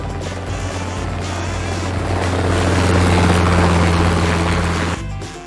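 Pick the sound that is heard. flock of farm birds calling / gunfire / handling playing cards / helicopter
helicopter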